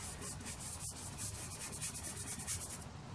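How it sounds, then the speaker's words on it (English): A small brush rubs pastel into paper for a sunset cloud painting, giving a close, steady, soft scratchy rubbing that continues without pause. "just using a small brush, rub that in"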